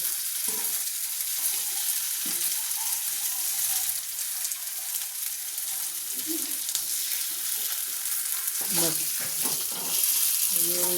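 Banana flower fritters fry in hot oil with a dense, continuous crackling sizzle, joined near the end by a few clinks and scrapes of a utensil in the pan, close and steady.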